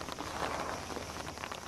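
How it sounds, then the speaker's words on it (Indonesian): Rain falls steadily on an island beach, a dense, even patter that stays close and constant with no pauses and no voices over it. "Memandangkan hujan"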